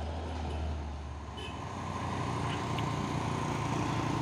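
A heavy truck rumbles past on the road with a steady low engine drone that swells slightly after the first second and holds close and loud throughout.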